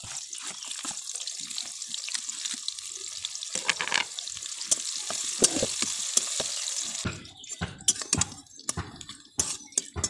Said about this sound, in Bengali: এইবার এই তেলে দিয়ে দেবো পেঁয়াজ আর একটা তেজপাতা।